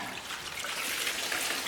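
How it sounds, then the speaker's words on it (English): Coolant draining out of a Mazda 6 during a transmission swap, a steady broadband splashing trickle of liquid pouring continuously at close range with no talk. "we'll empty out this coolant."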